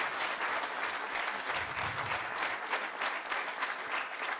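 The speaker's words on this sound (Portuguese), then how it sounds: "Uma salva de palmas para o Elídio." Applause from a live comedy show audience, a dense and steady clapping that holds at even strength for the whole stretch, with no voices on top.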